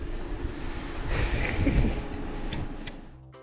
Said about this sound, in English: So we're gonna winch for the first time.